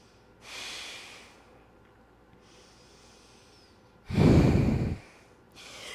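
Two deep breaths during a sacral chakra yoga flow: a long breathy inhale, a quieter pause, then a louder, forceful exhale, close and clear with no talking.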